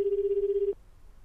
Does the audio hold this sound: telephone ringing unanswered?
yes